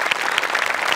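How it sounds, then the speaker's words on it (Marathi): Loud applause from a studio audience at a Marathi comedy show, dense continuous clapping at an even level for the whole moment, without talk. "एकदा जोरात टाळ्या."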